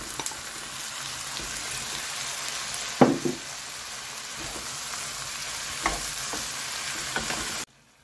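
Onions, turmeric, chili, garlic and peeled tomatoes fry in a pan with a steady close sizzle, broken by a few sharp clinks and stirring knocks before cutting off.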